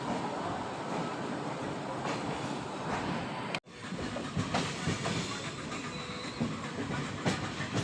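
A train rumbles steadily along the rails with a rhythmic clatter and hiss, briefly cutting out for an instant partway through before resuming.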